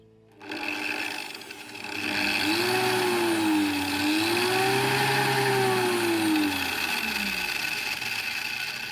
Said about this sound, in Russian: Установим его на болгарку, чтобы диск нам не прилетел в голову